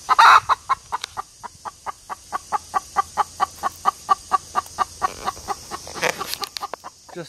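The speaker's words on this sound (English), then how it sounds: "The chicken's going off." A chicken cackles loudly and rhythmically on a homestead, a long run of evenly spaced sharp clucks close by, building at the start and ending in a louder burst, with no talking.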